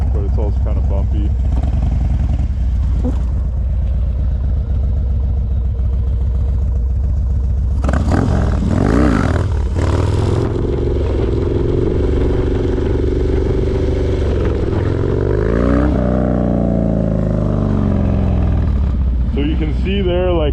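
Harley-Davidson Dyna motorcycle engine idling loudly, then revving hard for a wheelie in a smooth but bumpy parking lot, throttle climbing and easing off with rising and falling engine pitch, close and continuous.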